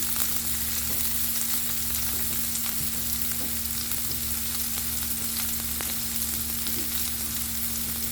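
Onions frying until lightly browned for an Italian-style cottage pie, a dense, even sizzle filling the whole stretch with faint occasional crackles over a steady low hum, close and unbroken, no voices.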